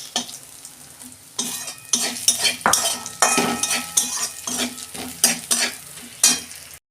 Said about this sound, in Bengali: বেগুনগুলো এই তেলের মধ্যে দিয়ে একটু ভেজে তুলে নিচ্ছি